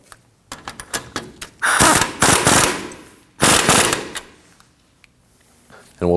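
An impact wrench snugs a castle nut onto an outer tie rod end in the steering knuckle of a 2009-2014 Ford F-150, giving a few short taps and then two loud, close sustained rattling bursts.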